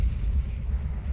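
A grenade explodes in Counter-Strike during a Virtus Pro vs Gambit match at PGL Major Krakow 2017, a loud, deep boom that rumbles on without a break and no voices.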